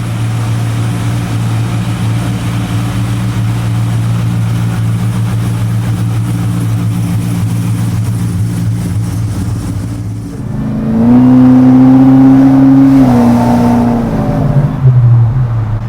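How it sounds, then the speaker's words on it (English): A 700HP Whipple-supercharged Chevy Chevelle restomod rumbles at a loud, steady idle through its exhaust, then the engine is revved up, holds a raised roar for a few seconds and drops back down, heard close with no talking. "What I love about the exhaust is how crispy it sounds."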